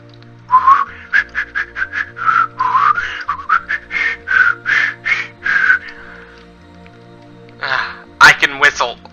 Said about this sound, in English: I can whistle quite well, actually.